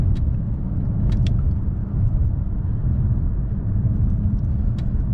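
A 2015 Mercedes-Benz S550 driving on a country road at night, its engine giving a steady low rumble as it pulls from low revs, with faint clicks from the cabin over the continuous drone.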